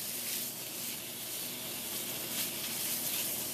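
Spinach and onion cooking together in a pan for a quiche filling, giving a soft, steady sizzle and hiss heard alone at low volume.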